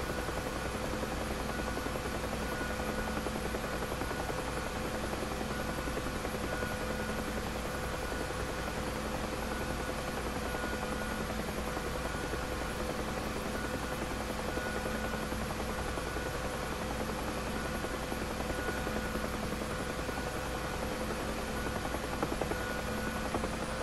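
A Viking aircraft coming in to land in strong wind, its steady, dense engine roar droning continuously and evenly at close range with no break.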